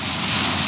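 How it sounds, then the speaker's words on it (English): Hail pours down outside during a storm in Madeira, a dense, loud, continuous hiss and patter that fills the whole moment with no pause and no voices. "I'm sure you can hear how loud the hail is outside."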